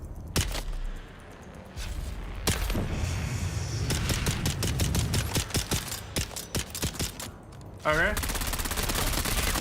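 Enemy gunfire in the video game Dune: Awakening, with rapid loud automatic bursts and single sharp shots crackling close by across the whole stretch, plus a brief spoken word partway through.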